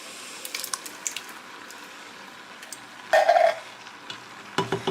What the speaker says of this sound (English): It's hard to stir with that.